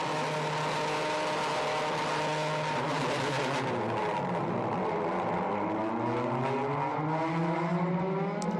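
World Touring Car Championship race cars at the 2017 round in Japan rev loudly under electronic rev control, several engines droning together and sweeping up and down in pitch, close and continuous with no talk over them.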